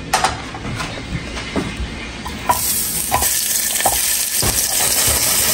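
Salty dried fish (buwad) frying in a pan, a steady sizzle with occasional stirring scrapes, growing louder and brighter partway through.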